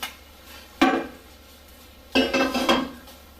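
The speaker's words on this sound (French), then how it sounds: "Là du coup je vais éteindre, le mettre dans mon plat" Thick savory clafoutis batter, cooked until very thick, scraped from a pot into a baking dish, heard as two close bursts of metal utensil clattering against cookware with quiet pauses between.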